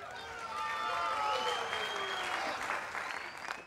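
A hall audience bursts into sustained, even applause for the chair of Stichting Liet at the Liet 2012 song contest, with a few voices and whistles mixed into the dense clapping throughout.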